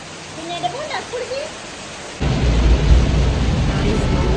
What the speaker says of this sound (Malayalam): രാവിലെ ഭയങ്കര മഴ